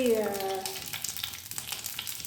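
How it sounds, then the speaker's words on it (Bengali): Curry leaves, dried red chillies and mustard seeds sizzle hard in hot mustard oil, a loud crackling burst at the start that settles into a steady, softer frying hiss. "শুকনো লঙ্কা, কারি পাতা আর সর্ষে ফোড়ন দিয়েছি সর্ষের তেলে।"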